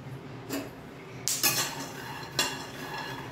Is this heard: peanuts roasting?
yes